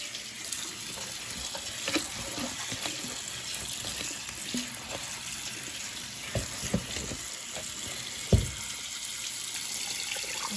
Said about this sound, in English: And rinse it one more time. I'm gonna do a little bit of water.